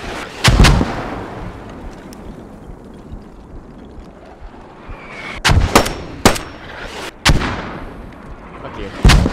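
Artillery guns firing in the military shooter game Squad, with several loud, sharp booms spaced across the stretch, two close together near the start and others further on, over a low battlefield rumble.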